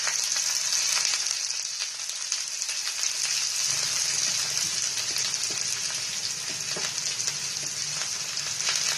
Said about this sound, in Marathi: हा कांदा आहे तो चांगला गुलाबी रंगावर भाजून घेणार आहोत